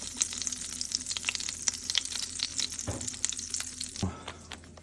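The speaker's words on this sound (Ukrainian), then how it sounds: "сковорідка розігрілася, сюди трішки ще додамо соняшникової олії" Sunflower oil sizzles and crackles steadily in a hot pan for frying king oyster mushrooms, a dense hiss punctuated by sharp pops and a couple of brief clatters.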